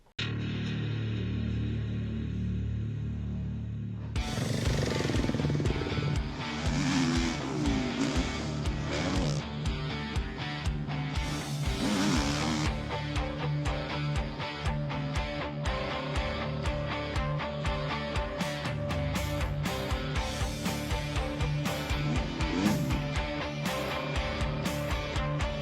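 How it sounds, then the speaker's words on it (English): Jeremy Seewer's Kawasaki KRT factory MXGP motocross bike runs loud and close over a steady engine bed, revving and shifting repeatedly with sharp throttle bursts and no talking. "here's the clip of Jeremy Seewer on the Kawasaki KRT factory MXGP bike"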